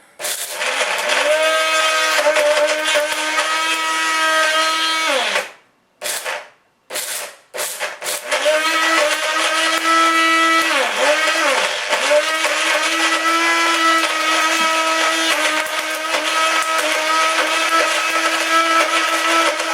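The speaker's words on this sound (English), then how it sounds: "And now let's start up the blender." A countertop blender whirs loud and steady as it blends water with Fruit by the Foot fruit snack, cutting out twice briefly and restarting, then grinding on for a long, strained run.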